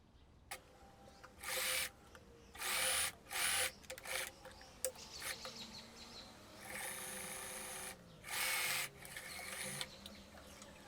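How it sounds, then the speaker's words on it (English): A sewing machine stitching a dress seam at a 1 cm allowance runs in short bursts of a second or so, several times over, with quieter handling noise between them. "I sew respecting 1 cm of seam allowance."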